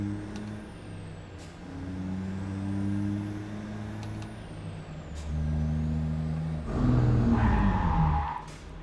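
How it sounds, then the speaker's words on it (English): In the game American Truck Simulator, a heavy truck engine drones and shifts, then tires screech sharply near the end, over a steady mechanical hum. "We screeched the tires."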